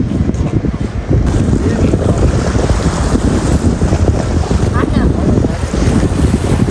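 Loud, steady wind buffeting the microphone over a deep rumble of an engine and water rushing past a boat at sea.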